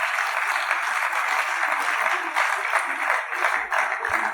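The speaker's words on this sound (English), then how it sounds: "Some of you are clapping like you borrowed your hands." Steady applause from a conference audience at a panel on global education and the Nigerian struggle, many hands clapping together in a bright, continuous patter with slight swells.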